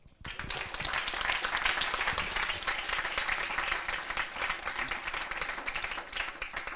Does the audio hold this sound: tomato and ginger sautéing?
no